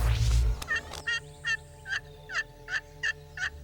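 Wild turkey gobbling in the woods during a turkey hunt, a burst of noise opening into a steady series of about seven short, evenly spaced gobbling bursts, clear and fairly close with no talking.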